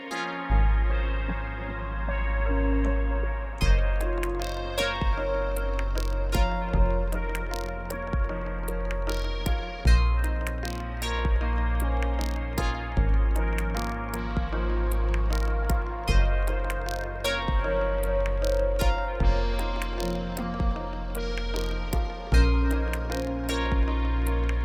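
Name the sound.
Teenage Engineering OP-XY synthesizer playing layered sequences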